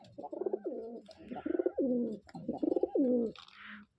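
Rajshahi Giribaz pigeons from a color-matched pair coo nearby, repeating a rolling, throaty phrase about three times in a steady rhythm, clear and close with no talking over it.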